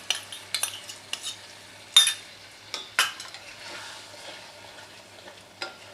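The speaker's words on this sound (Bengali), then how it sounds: "এটাকেও ভালো করে আমি কষাবো।" Chicken bharta with yogurt stirred in a pan over low flame: scattered scrapes and clinks of a spoon against the pan over a faint sizzle, irregular and fairly close.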